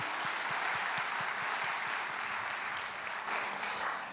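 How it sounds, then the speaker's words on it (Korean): Congregation applauding during a Sunday morning church service at a university church, a dense, steady wash of clapping that fills the space for several seconds with no talk over it. "우리 그렇게 하실 하나님께 감사의 박수 올려드립시다."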